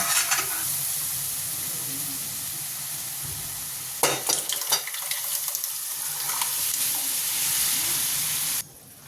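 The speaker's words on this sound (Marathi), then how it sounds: "कुकरमध्ये जे सर्व जिन्नस शिजवलेले आहेत ते इथे आपण मिक्स करून घेणार आहोत छानपैकी" Cooked pav bhaji vegetables from a pressure cooker being stirred and mixed in a pot, a steady sizzling hiss with bursts of scraping and stirring clatter partway through, close and fairly loud, no talking.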